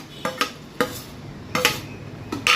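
A utensil taps and scrapes against a bowl while idli batter is beaten: sharp, separate clinks in uneven bursts, close and fairly quiet, with no talking.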